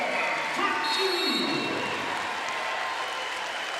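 Volleyball arena crowd during a Purdue Boilermakers home match against Illinois, a steady loud roar of cheering and applause at set point, dense and sustained throughout with a brief horn-like tone rising and falling near the start.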